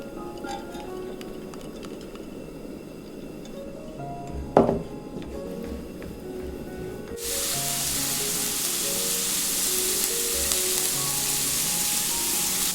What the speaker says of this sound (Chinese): 开中小火，加入橄榄油，先把蒜末炒出香味。